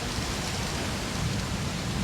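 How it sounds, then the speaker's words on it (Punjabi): A steady, even wash of rain hisses throughout, a constant broadband noise with a low rumble and no voices. "ਤੇ ਮੀਂਹ ਪੈਣ ਲੱਗ ਗਿਆ"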